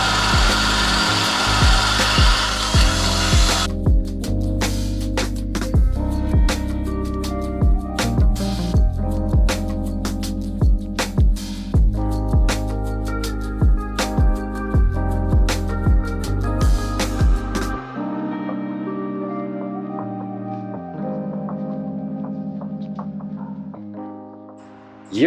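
Enlarging a bolt hole in a metal bracket on a manual-swapped triple-carb Series 1 Jaguar XJ6, with a steady power-tool whine and rapid rhythmic grinding strokes, then a quieter, thinner tone toward the end.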